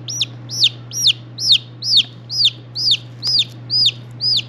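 A chick peeps loudly and repeatedly, about ten sharp, evenly spaced chirps, close up over a steady low hum while its curled toes are being splinted.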